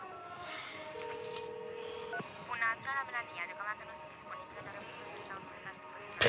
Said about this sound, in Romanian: Trebuie să o sun.